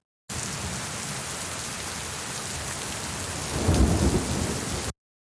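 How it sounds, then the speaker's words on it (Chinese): A thunderstorm sound effect: steady rain patters throughout, then a deep, loud thunder rumble swells near the end before fading, with no voices. "第三个呢就是这种雷阵雨的一个雷暴，里面有雨的声音，也有就是打雷的一个声音"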